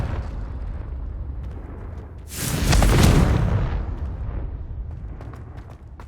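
A Confringo spell detonates in Hogwarts Legacy, a loud, roaring burst about halfway through that swells and then rumbles away over low ambient noise.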